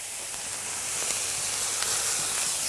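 Ground beef and onions sizzle in a hot pan, a steady bright hiss that swells slightly louder partway through, with a few faint crackles and pops and no talking.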